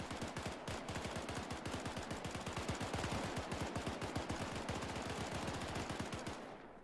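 Rifles fire rapidly and steadily in a British WW2 training exercise, a dense, evenly spaced train of sharp reports that carries on for about six seconds before stopping.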